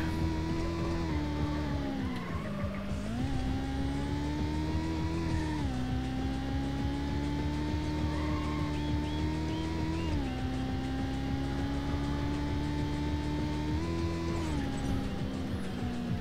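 Car engine from an older video game drones steadily with a buzzy, synthetic tone, pitch dipping and climbing in several shifts like gear changes, continuous and fairly quiet throughout.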